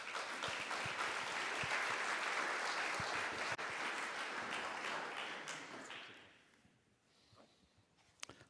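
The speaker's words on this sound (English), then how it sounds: "So let's give him a round of applause." Audience applause at an urban planning conference plenary in Vienna, a sustained round of clapping for a speaker that fades out after about six seconds, followed by a few faint scattered sounds.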